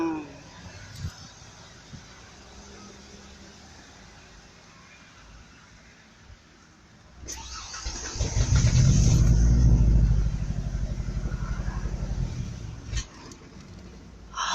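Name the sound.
truck engine cranking, trying to start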